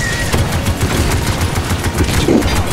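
Repeated cannon blasts boom from ships in the naval battle game Battlewake, overlapping into a dense, continuous barrage with no clear gaps and no talking.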